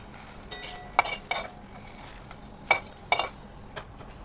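Fried okra stirred and lifted out of a kadhai, sharp metallic clinks and scrapes of a spoon against the pan in irregular bursts over a soft background sizzle.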